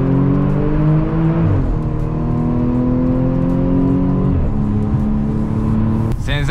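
An Audi S5 Cabrio accelerates hard through a tunnel, its engine note climbing steadily in pitch, then dropping with gear shifts and climbing again, loud and close with a reverberant drone.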